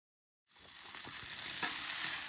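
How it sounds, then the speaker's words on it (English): Farm fresh eggs and potatoes fry in a pan at a forest campsite, a bright hissing sizzle that starts suddenly and stays steady with small pops, close up and alone. "we're gonna be cooking up some treat, fried treat, farm fresh eggs, and some more fried taters"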